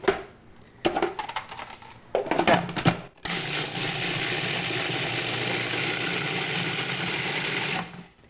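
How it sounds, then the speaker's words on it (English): A food processor grinds oats into flour, first in a few short, choppy pulses, then in one steady, loud, continuous whir lasting about five seconds before it stops. "I'm going to place them into my food processor. And then I'm going to grind it down into a flour."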